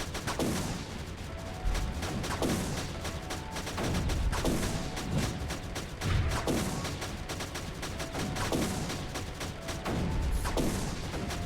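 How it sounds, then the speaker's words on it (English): Cannon fire in the strategy game Creeper World 3, with regular heavy thumps repeating about every one to two seconds and sharper crackling fire over a steady battle backdrop, with no talk. "And put a cannon on the power zone."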